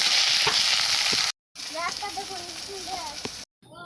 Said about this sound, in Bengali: ফোড়নে আমি জিরা দিয়ে দিচ্ছি